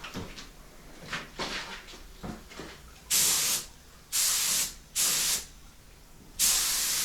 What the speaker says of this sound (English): It's always a little bit awkward spraying around the horns and the cutouts on a guitar body